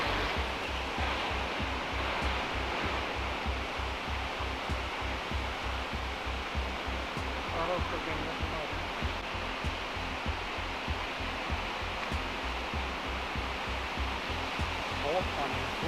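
Rushing river water at the Rudraprayag confluence, a dense, loud, continuous roar heard close with no pauses, under a steady low rhythmic throbbing.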